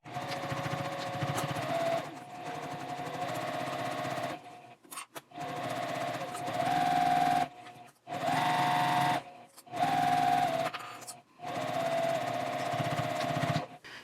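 A sewing machine stitches a tote bag's casing to its main panel in several steady runs of whirring, broken by brief pauses, fairly close and moderately loud with no talking.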